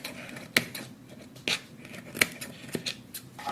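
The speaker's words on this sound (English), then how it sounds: "cut off any extra pine needles that hang too low from the bottom" Scissors snipping pine needles trimmed from a dollar store plate craft, about five crisp close cuts spaced roughly a second apart over a quiet background.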